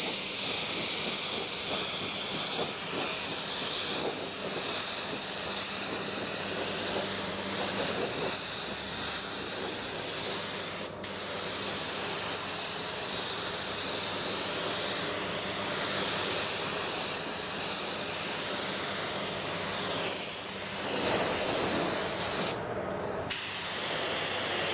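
A spray gun lays down a heavier third coat of automotive base coat paint, a loud, steady, close hiss running almost without break, cut only by a couple of brief pauses in the trigger.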